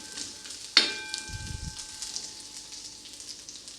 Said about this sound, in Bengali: বাদামটা আপনারা আঁচটাকে লো করেই ভাজবেন